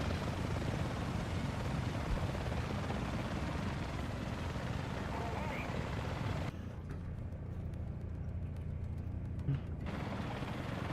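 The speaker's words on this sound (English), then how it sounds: "it sounds like there's another heli here" Helicopter rotor drone in the War Thunder game, a dense continuous whir and throb that holds steady throughout, with a short muffled dip partway, no talk over it.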